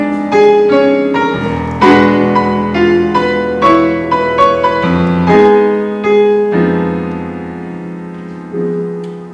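Debussy song passage from Fêtes galantes, série 2, with its Tristan chord allusion, heard as sustained piano chords and a clear melodic line, loud and close with no talking.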